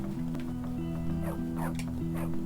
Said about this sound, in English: Oh, it sounds so sad. Hey, puppy. The dog is following me.